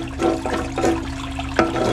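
Water running steadily over a Miller table used for gold prospecting, a continuous rushing flow with small splashes and surges, close and fairly loud.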